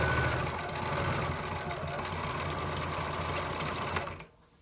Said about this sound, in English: I am back stitching at the end of each piece